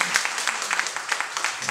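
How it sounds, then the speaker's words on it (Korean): Brief audience applause indoors during a question-and-answer talk, moderately quiet scattered clapping with a faint voice nearby. "박수 한번 다시 부탁드립니다"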